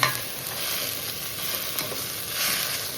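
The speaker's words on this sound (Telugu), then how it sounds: "టమాటాలు బాగా మెత్తగా మగ్గాలి." Tomatoes softening in a pan for tomato curry, stirred now and then; a soft, steady sizzle sits under light scraping from the spoon, close by, with no voices.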